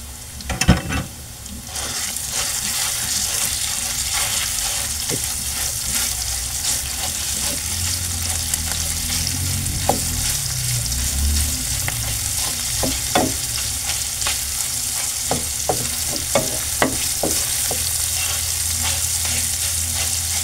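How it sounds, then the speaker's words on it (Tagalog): Ground meat sautéing in a pan for a creamy carbonara, a loud continuous sizzle and crackle close by with periodic spatula scrapes and taps throughout. "igisa natin tong ating giniling"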